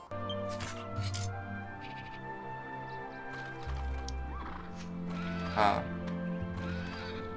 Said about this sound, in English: you can hear the horse move around, but you can't see it